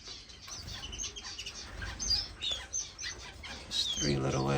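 Finches including a grass finch chirp in an indoor bird room, light scattered tweets and short calls over a low background hum, with a voice joining near the end.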